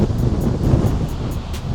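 Strong wind, gusting around 60 to 70 mph, buffets the microphone outdoors at Turner Falls Park in the Arbuckle Mountains near a stream, making a steady, loud, low rumble with no voices.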